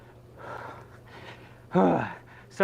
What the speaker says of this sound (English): if you're hearing just loud breathing noises